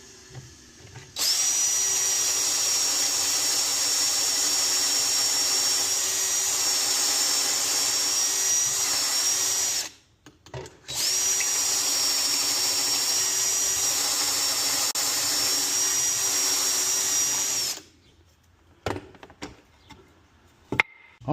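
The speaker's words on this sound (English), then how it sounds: "now that we've got our 4 corner posts pocket drilled and ready to install" A drill bores pocket holes in pallet wood corner posts, making two long, loud, steady whining runs of about nine and seven seconds, split by a brief pause and followed by a few clattering knocks.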